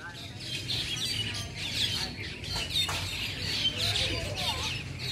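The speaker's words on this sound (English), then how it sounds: "Now this is a lot of birds." Many birds chirp and tweet together around a home, a dense, continuous chatter of overlapping calls with a person talking underneath.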